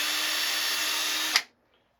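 Close and loud, a handheld power drill bores into plywood with an unbroken high whine for over a second, ending with a brief clack as it stops and falls silent.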